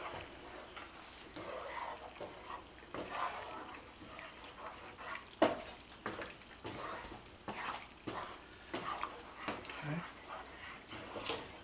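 A cornstarch-thickened sauce for garlic lemon chicken stirred in a pan: quiet scraping and soft bubbling strokes with one sharper clink, faint and close.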